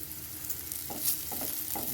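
Bitter gourd fries in a pan with a soft, continuous sizzle, with a few stirring scrapes and clicks close by and no talking.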